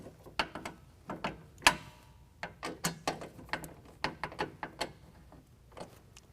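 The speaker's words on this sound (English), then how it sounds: "To snug them down, we're going to use a T27 Torx bit" A T27 Torx bit turning tonneau cover bolts on a 2020 Jeep Gladiator: a run of sharp, close ratcheting clicks in short uneven bursts, alone and fairly quiet.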